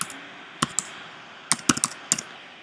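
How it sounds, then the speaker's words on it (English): Computer keyboard keys are tapped in short uneven bursts of clicks, close and fairly quiet over a faint room hiss, with no talking. "click at the top of the page and type in the word"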